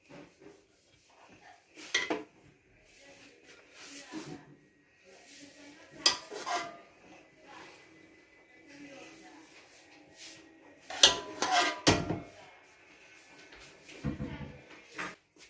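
Pots and cutlery clatter in sporadic bursts as desi ghee khoya zarda, a sweet rice dish, is served out, sharp metallic knocks and scrapes separated by quiet gaps.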